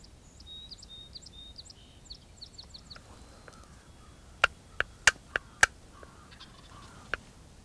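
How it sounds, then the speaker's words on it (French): Wild turkeys gobble faintly in the distance among chirping birds during a hunt in Beauce, followed by several sharp, loud clicks in quick succession and one more later. "Les dindons commencent à se dépercher un à un, répondre aux appels"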